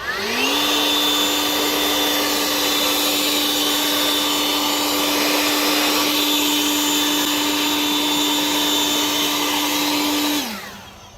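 Powersmart 40V cordless leaf blower spins up and runs at a steady, loud, high-pitched whine for about ten seconds while blowing twigs, then winds down.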